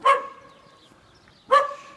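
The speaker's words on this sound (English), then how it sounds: "if she can hear dogs barking, which we can" Dogs barking nearby in Alcudia, Mallorca during lockdown, two sharp single barks about a second and a half apart, clear and fairly close with quiet between them.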